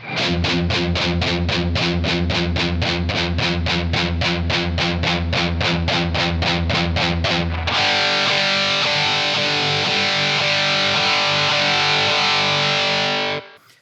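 A Blackstar Ruby DA100 guitar amp pushed into scooped-mid, 80s Marshall-style distortion: a run of evenly spaced chugging palm-muted hits for about eight seconds, then a loud sustained chord ringing out alone.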